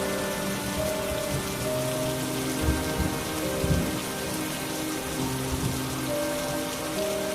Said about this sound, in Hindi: तेज तूफान आया और बहुत तेज बारिश शुरू हो गई